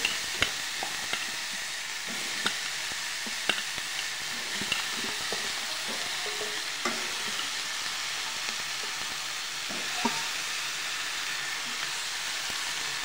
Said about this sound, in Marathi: आता याला मस्त असं परतून घ्यायचं 2 मिनिटं.